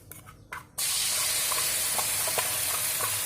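Blended spice paste hits a hot pan and breaks into a loud, steady sizzle and hiss after a brief quieter moment, the frying sound close and continuous to the end.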